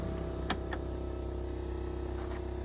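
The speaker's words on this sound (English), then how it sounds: "That buzzing you hear is the electric vacuum pump for the brake booster." Electric vacuum pump for the brake booster on a '68 Ford Galaxie 500 convertible gives a steady, even buzzing drone, with a couple of brief clicks near the start and end.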